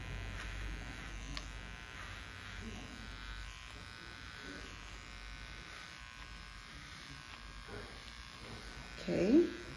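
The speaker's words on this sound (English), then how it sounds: "I'm just gonna clean this up with a little trimmer here." A small electric hair trimmer buzzes steadily while cleaning up a pixie haircut, a low continuous hum close by with slight variations as it moves through the hair, and someone talks over it near the end.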